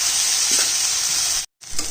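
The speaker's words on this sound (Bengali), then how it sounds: "পেঁয়াজ আর টমেটো পেঁয়াজটা লাল করে ভাজবো" Onion and tomato frying in a pan give a steady, loud sizzle, with soft stirring scrapes and a brief drop to near-silence before the sizzling returns.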